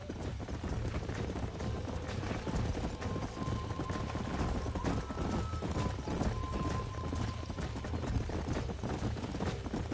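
Horses gallop across open ground in the Red Dead Redemption video game, with dense, rapid hoofbeats thudding steadily and loud throughout, and a faint tonal hum sitting behind them.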